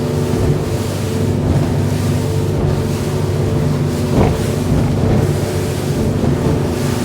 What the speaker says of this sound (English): I'm going to stick the boat into a couple of these waves